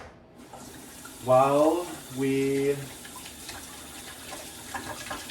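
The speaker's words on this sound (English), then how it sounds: "I'm rinsing my beaters again so they don't get dirty." Electric mixer beaters rinsed under a running kitchen tap after whipping cream, two loud gushing bursts of water close by, with a brief spoken word before the faint sounds that follow.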